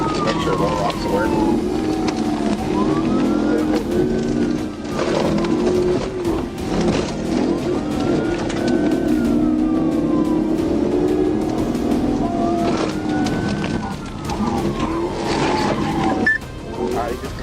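A police car siren wails in slow rising and falling sweeps during a pursuit, loud and continuous over engine and road noise, with radio chatter and voices mixed in throughout.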